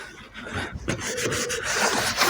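Rapid rubbing and scraping strokes come from cleaning the windscreen pinch weld on a Vauxhall Corsa D. The sound is close and fairly loud, with no talk.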